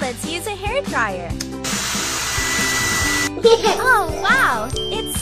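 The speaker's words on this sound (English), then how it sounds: "Now let's use a hairdryer!" A steady, loud hair-dryer whoosh in a baby panda care video game runs for about two seconds between bursts of bright, cartoonish game voices and music.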